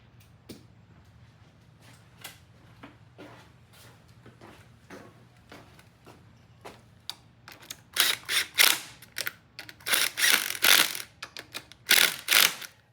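A socket wrench ratchets in short clicking bursts while ignition coils go in, quiet, scattered clicks at first growing into louder, rapid runs toward the end, close by with no talk.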